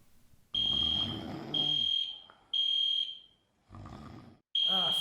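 Shrill, sustained electronic tones from a fire alarm sound in loud, close bursts with brief breaks between them, and a duller rumbling noise runs underneath.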